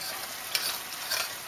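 Soy sauce sizzles and bubbles in a hot frying pan while cooking a Chaliapin steak don, a constant bright hiss with a couple of brief spatter bursts.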